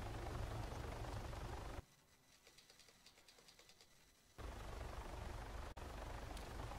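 A helicopter in Arma 3, on an Altis Life server, roars loudly and steadily, drops to a softer rhythmic rotor thudding for a few seconds, then returns to a full, dense roar.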